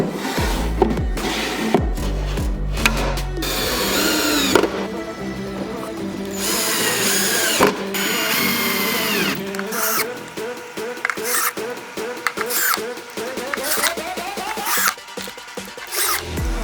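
Power drill driving screws into a fixture during a two-car home garage renovation, loud close whirring bursts that start and stop repeatedly, with rattling and handling noise between runs.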